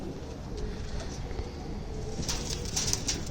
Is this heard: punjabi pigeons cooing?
yes